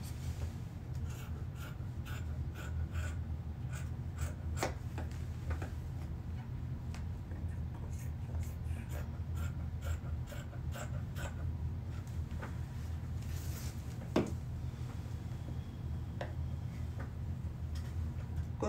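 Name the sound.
scissors cutting dress fabric pattern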